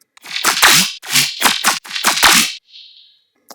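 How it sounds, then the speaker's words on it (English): A layered synth bass for heavy riddim dubstep, a crispy, wide, squelchy wavetable patch, comes in a few loud, choppy bursts followed by a short fading tail and silence. "And another bass layered on top of this one sounds like this."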